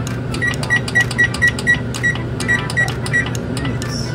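A kitchen timer is set for pasta cooking, giving a rapid series of about ten short, bright, clear beeps close by at uneven intervals over a low background hum.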